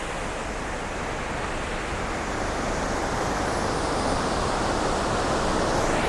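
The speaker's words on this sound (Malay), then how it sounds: "Okay, ni kawasan air terjun dia." Waterfall at a roadside area on the Sumpitan route, a steady broadband roar of falling water filling the scene, constant and loud throughout with no voices.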